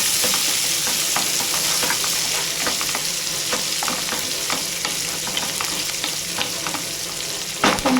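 Bottle gourd curry being stirred in a pan: a soft ongoing sizzle with repeated scraping and clinking of the spoon against the pan, close and moderately loud with no speech.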